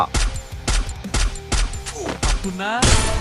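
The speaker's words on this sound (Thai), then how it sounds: "ผมได้ยินเสียงปืนอยู่ข้างหน้า" Rapid bursts of gunfire in the video game Free Fire crack out in quick repeated volleys, punchy and close, with a rising mechanical whine near the end.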